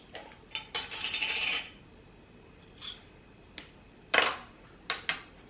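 A teaspoon measures ground cumin into a bowl for a homemade enchilada sauce mix. Light metallic clinks and taps sound close and quiet, with a brief scraping rustle early on, then a few separate clicks.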